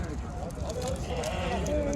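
Sheep bleating at the Torbalı livestock market, a crowded open-air animal market, with several animals calling amid constant background chatter and market noise.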